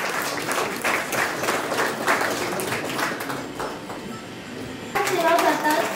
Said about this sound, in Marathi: तुमच्या जोरदार टाळ्या होऊ द्या